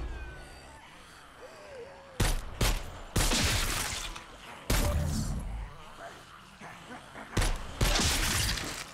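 An AK rifle fires in the VR zombie shooter Dead Ground Arena: loud, harsh bursts, some short and some sustained, broken by brief gaps of quieter game ambience.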